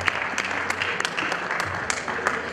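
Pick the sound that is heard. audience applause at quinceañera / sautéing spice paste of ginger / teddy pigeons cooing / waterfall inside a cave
audience applause at quinceañera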